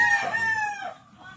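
A rooster crowing close by on a farm, one drawn-out cock-a-doodle-doo that fades at the end.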